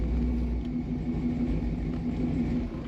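A 1951 Ford F1 street rod with an automatic transmission idles with a rowdy, steady low rumble, close and continuous with no voices.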